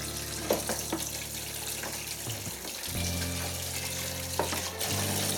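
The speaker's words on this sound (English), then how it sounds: "I just want to run some hot water" Hot water runs from a tap into a sink beside a Zanussi washing machine's removed detergent drawer, a quiet steady hiss and splash with a few small clunks of the drawer grate being handled.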